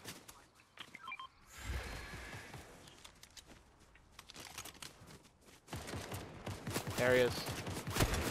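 Rapid gunfire from a first-person shooter match, bursts crackling in and out over a duo's banter, with a louder cluster of shots near the end while players talk.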